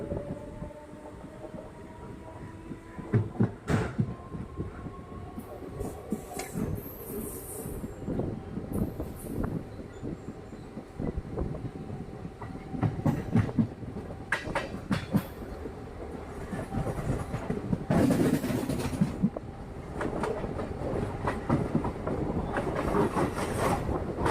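The Ooty toy train runs towards Mettupalayam railway station with a continuous rumble and clatter of wheels on track. Scattered squeals and clanks rise and fall throughout, with no voices heard.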